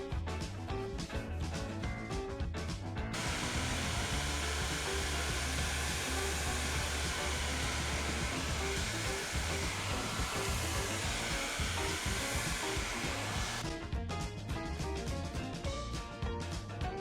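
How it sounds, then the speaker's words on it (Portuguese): A hair dryer blows steadily and loudly to warm rubbed-in beeswax on canvas shoes, a continuous broadband whoosh with a clattering, busier stretch at the start and end. "aquecê-la com secador"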